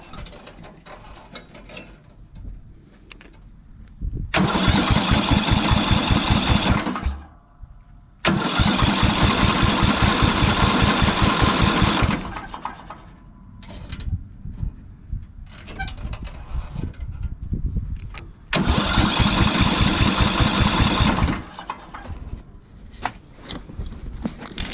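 A Briggs and Stratton engine on a cheap ride-on mower repeatedly cranks with a rapid mechanical ratcheting chug in three long loud bursts, separated by quieter pauses, with birds faintly audible in the background.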